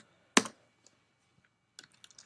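Computer keyboard typing: one sharp loud keystroke, a few faint isolated taps, then a quick cluster of clicks near the end, close and otherwise quiet.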